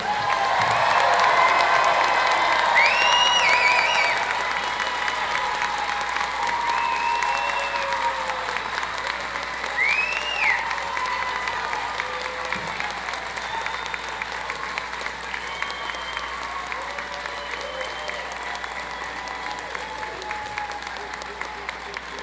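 A commencement audience for the class of 2022 cheers and applauds loudly, the sustained applause gradually easing over about twenty seconds with scattered whoops and shouts rising above it.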